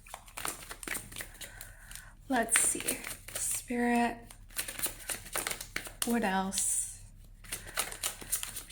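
A deck of tarot cards is shuffled by hand in short bursts of riffling and soft slapping, close to the mic, while a person talks intermittently between shuffles.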